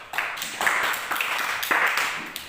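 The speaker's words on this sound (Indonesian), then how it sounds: "tepuk tangan untuk kelompok" Classroom clapping for a student group, a short burst of claps from several people in a room, moderately loud and uneven over a couple of seconds.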